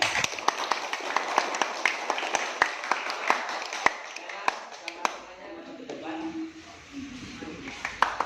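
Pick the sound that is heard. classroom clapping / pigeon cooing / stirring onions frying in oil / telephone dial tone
classroom clapping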